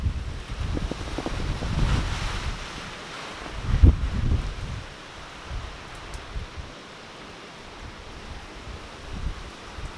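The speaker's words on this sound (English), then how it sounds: "Oh yeah, these winds are bad." Strong storm winds gusting at about 55 to 60 mph roar and buffet a close microphone in heavy rumbling surges, with a sharp thump near the middle and a steady rushing wash throughout.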